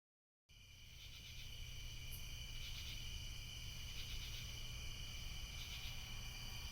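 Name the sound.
crickets chirping in winter woods at night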